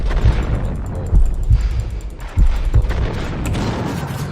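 Gunfire in the video game Max Payne: a rapid run of heavy, booming shots with strong low thumps, several louder blasts standing out in an irregular rhythm, loud and close.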